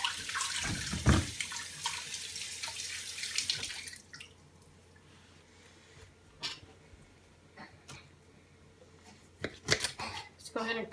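Tap water running into a sink as a trout is rinsed, a loud rushing stream for the first few seconds, then quiet handling sounds with scattered splashes and clinks returning near the end.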